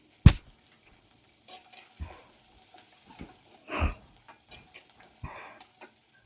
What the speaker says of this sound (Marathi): कांदा आपल्याला 2-3 मिनिट हा छान असा तळून घ्यायचा आहे